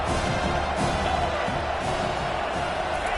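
A stadium crowd at a football game makes a dense, continuous roar that holds steady throughout, with no distinct cheers standing out.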